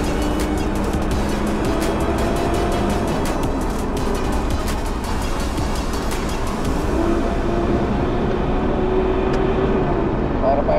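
Steady diesel engine drone from a remapped Mitsubishi Triton double cab pickup with a turbo spooling, heard inside the cab with a faint rising whine, as people talk over it.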